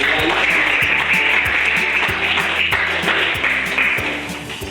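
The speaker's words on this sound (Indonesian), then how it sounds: "Tepuk tangan untuk Desa" A classroom group applauds together for a fellow village team, a brisk wash of clapping with a low hum running beneath and a slight fade toward the end.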